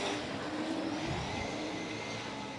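A super sedan race car at Gympie Speedway in the Queensland Super Sedan Series accelerates hard, its loud, sustained engine roar filling the whole stretch without a break.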